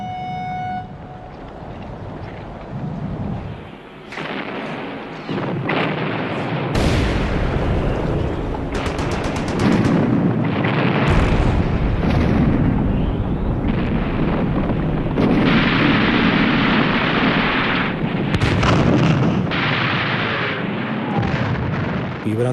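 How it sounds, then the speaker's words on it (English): World War I artillery shell fire with repeated heavy explosions, loud and dense, booming bursts and rumbling blasts rolling over one another almost continuously, with no voices. "We were under shell fire for 8 hours."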